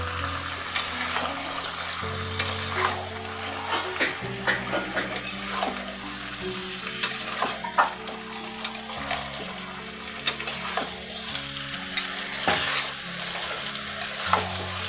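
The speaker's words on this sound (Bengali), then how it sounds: "এটা আমি ভালো করে নেড়ে নেড়ে কষাচ্ছি" Mutton is stirred and sautéed in a pan for a Bengali-style mutton and potato curry. A constant sizzle is broken by repeated scraping strokes of the spoon, over soft steady background music.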